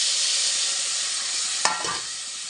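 Hot tempering of dried red chillies and turmeric sizzles loudly and evenly, then a brief clatter and burst as tomatoes go into the pan, the hiss settling slightly lower afterward.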